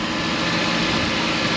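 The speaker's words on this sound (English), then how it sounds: "And I'll just be listening for obviously engine noises," A used car's engine runs close by with a steady, dense rumble and hiss, unbroken for a short stretch with no voices.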